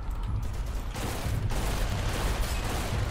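Rifle gunfire in the video game Primal Carnage Extinction comes as dense, rapid bursts of shots blending into a continuous rattling barrage, loud and close for the whole stretch.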